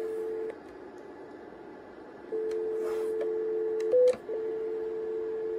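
Dial tone on a Cisco VoIP phone, then a short DTMF keypress tone for 9, then the tone resumes, heard faintly with no talking.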